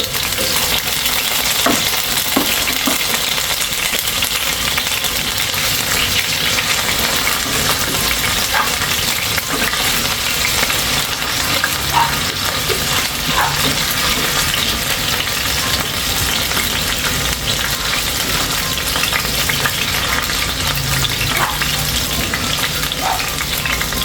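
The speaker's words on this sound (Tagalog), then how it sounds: "So fry ko muna yung patatas." Potatoes fry in a pan of oil as the first step of a Filipino ginataang manok, giving a steady, loud, dense sizzle throughout with occasional small pops and clinks, and no talking.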